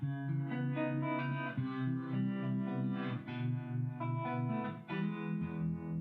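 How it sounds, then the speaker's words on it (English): A sustained electric guitar tone through an Orange amp shimmers with a pulsing harmonic vibrato, chords changing every couple of seconds, played alone without talk. "it won't have the harmonic vibrato, which you just heard, which this is"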